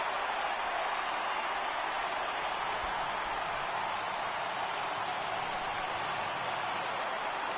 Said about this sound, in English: Listen to this crowd in Brooklyn.